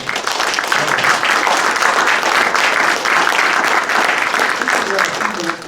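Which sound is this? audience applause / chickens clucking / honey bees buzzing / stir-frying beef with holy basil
audience applause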